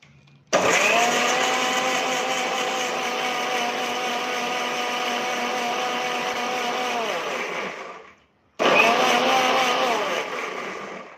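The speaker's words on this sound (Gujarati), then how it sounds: "હવે આપણે ચટણીને પીસી લેશું" An electric mixer grinder whirs loudly as it grinds chutney with ginger, salt and a little water, running in a long steady burst, stopping, then starting again close by with no talking.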